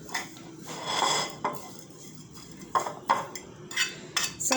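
A spoon clinks and scrapes around a bowl as turnip is mixed with sugar, coming in several uneven bursts of clatter with brief quieter gaps, close and fairly soft.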